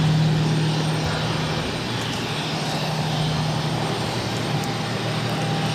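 Tecnam Traveller light aircraft taking off at a busy airport, a steady droning engine hum with a low tonal whine, fairly loud and continuous, no talk.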